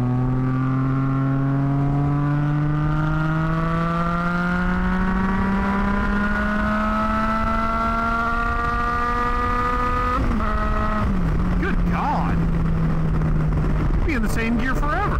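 A Triumph Tiger 660 motorcycle, fitted with a one-tooth-larger front sprocket, accelerates hard in a single long gear, its engine note climbing steadily for about ten seconds before a brief dip and recovery, loud and close.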